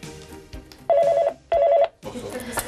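A landline telephone rings twice while calling a power company's customer service line, two loud steady warbling bursts separated by a short gap, with faint room noise and a brief rustle before and after.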